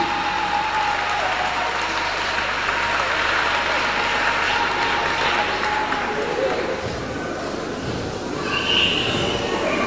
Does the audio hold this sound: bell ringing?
no